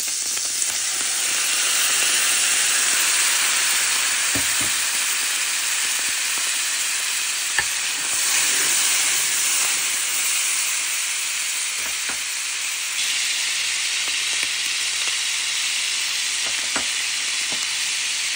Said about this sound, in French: Dans ce mélange, je vais ajouter un peu du jus de cuisson de mes pâtes.